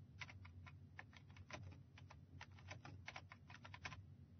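Someone types steadily on a computer keyboard, producing a quick, irregular series of close, crisp key clicks over a quiet low hum, with no voices.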